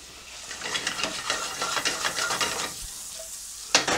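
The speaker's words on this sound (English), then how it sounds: "Just let them fry gently for about 2 minutes." Grouse hearts and liver fry gently in foaming butter, a close, crackling sizzle with rhythmic stirring scrapes that eases off midway, followed by a sharp clatter near the end.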